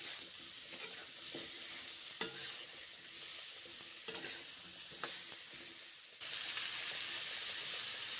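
Raw banana pieces frying with salt and turmeric in a pan, a soft steady sizzle broken by occasional stirring scrapes, growing a little louder and hissier near the end.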